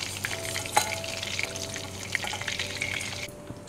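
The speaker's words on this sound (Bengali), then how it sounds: "এগুলো ভাজা হয়ে গেছে, ঠিক এইভাবে ভেজে নিতে হবে। 4-5 মিনিট ভাজলে হয়ে যাবে।" Chicken pieces for chilli chicken sizzle in hot oil, a close, steady frying crackle with small pops and utensil taps, which cuts off abruptly just before the end.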